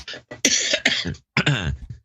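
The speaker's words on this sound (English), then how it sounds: "I'll be coughing my way through this thing." Several harsh, bursting coughs from one person, loud and close, in a quick fit of three or four explosive bursts with short pauses between them.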